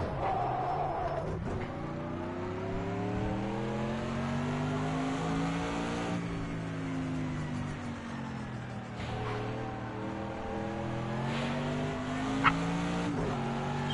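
A sim racing car's engine on the Zolder circuit revs hard through repeated rising and falling gear sweeps, loud and continuous, with faint tire squeal along the way.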